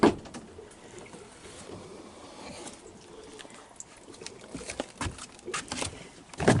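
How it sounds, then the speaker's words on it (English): Water gurgles and patters in the line of a point-of-use hot water heater being replaced, sounding in uneven bursts that grow busier toward the end. "And you can hear that gurgling. That means there's still water in the line."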